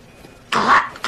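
A single loud, close, harsh cough bursts out after a quiet moment, with a brief second catch at the very end.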